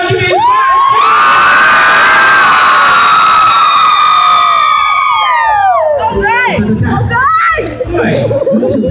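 A large crowd of children cheers at a Patati Patatá clown show at the Fenamilho festival, raising one long, loud, sustained shout that breaks into scattered shrieks and excited chatter.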